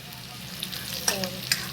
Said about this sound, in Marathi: छोटे छोटे बारीक कांदे चिरून घेतलेत. ते चांगलं असं लाल होतोपर्यंत ह्याला तळून घ्यायचं.